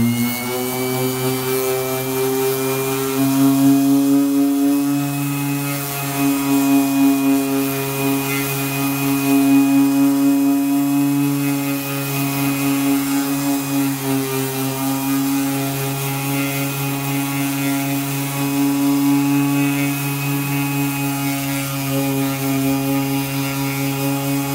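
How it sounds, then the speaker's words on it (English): An electric sander grinds through an emblem sticker on a truck body, a loud steady whining drone with a strong tonal hum that swells and eases slightly as the sander moves. "The best way to do it is just to sand right through the sticker."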